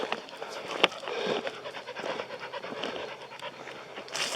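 A dog panting and sniffing close by during an outdoor morning walk in the woods, with quick rhythmic breaths and snuffles running continuously over faint rustling background noise.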